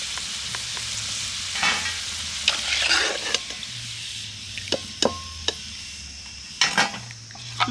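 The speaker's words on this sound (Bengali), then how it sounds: "বাকিগুলো একই রকমভাবে আমি তেলে ভেজে নেব" Snack pieces fry in hot oil with a steady, close sizzle, while a utensil stirs and scrapes the pan in sharp clicks and clinks scattered throughout.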